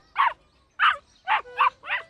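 A human voice imitates a puppy's barking with five short yappy barks, spaced unevenly and close to the listener.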